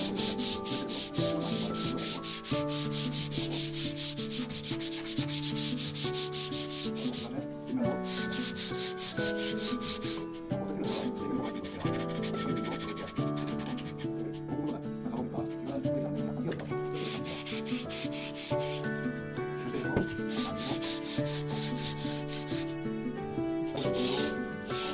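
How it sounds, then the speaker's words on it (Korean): Sandpaper is rubbed by hand along the grain of a wooden cutting board, a close, steady, rhythmic scratchy rasping that continues throughout with faint background music. "그 부분 표면을 사포질을 해요. 사포질 할 때는 나무 길이 방향을 하세요."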